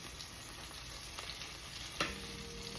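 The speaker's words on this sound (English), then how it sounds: "So again, sizzling until it's nice and browned." Butterflied lemon chicken fries in a pan with a soft, steady sizzle and faint crackle. A brief clink sounds near the end, and no voices are heard.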